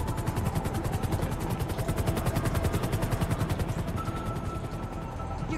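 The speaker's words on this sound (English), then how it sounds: "A helicopter will be with you shortly." In GTA Online, a helicopter's rotor beats out a fast, steady, loud thumping chop through the whole stretch, fading slightly toward the end, with no speech.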